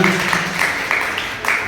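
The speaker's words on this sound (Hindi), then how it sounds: "जोरदार तालियां" An audience at a school mathematics quiz claps in a short, dense burst of steady applause.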